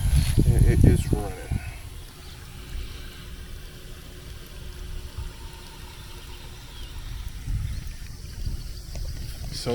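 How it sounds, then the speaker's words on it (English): Flood water runs steadily across a flooded front yard, a continuous moderate wash and trickle lasting throughout, with louder rumbling bursts near the start and end. "Another day of running water."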